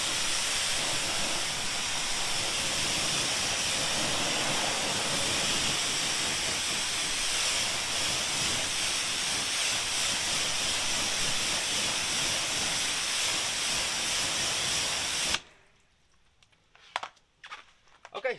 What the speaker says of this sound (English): So now that the whole wheel's clean, I'm going to rinse it off again.